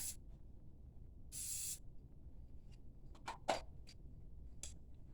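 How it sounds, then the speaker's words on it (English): A can of anti-slip spray hisses in a short burst onto a dance pole, followed by a few quiet clicks and taps in an otherwise hushed room. "All you gotta do is take it and just spray a little bit on each side"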